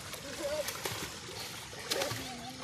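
Water splashes and sloshes in bursts as people bathe in a village pond filled by rain, with a few loud splats, while voices chatter over it.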